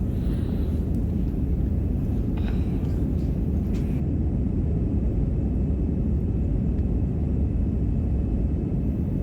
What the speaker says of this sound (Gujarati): હવે અમારું પ્લેન ટેકઓફ થઈ ગયું છે.